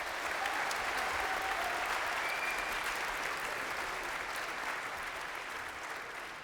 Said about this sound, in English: I think we should have a round of applause, please, for the cymbals